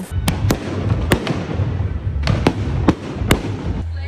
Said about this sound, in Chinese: 炮仔声蹦袂停。